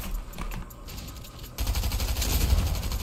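Gunfire in the video game Fortnite, a steady rapid stream of shots that grows louder and denser halfway through and continues to the end.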